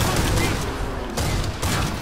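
Rapid bursts of gunfire in the video game Killing Floor 2, loud and close, arriving in a few dense volleys with brief gaps between them.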